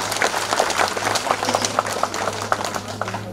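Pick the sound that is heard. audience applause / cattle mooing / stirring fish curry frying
audience applause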